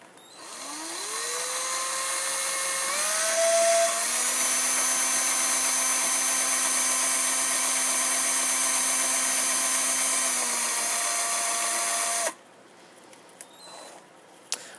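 A handheld drill grinds down the edge of a plastic Transformers Prime Airachnid figure, a steady high whine that rises as the motor spins up, holds loud for about twelve seconds, then cuts off abruptly.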